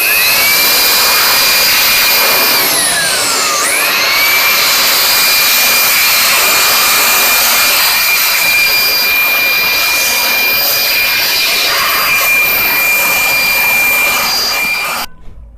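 A repaired blower runs steadily and loudly, holding a high whine that briefly dips in pitch and recovers early on, then continues unbroken to the end with no talking.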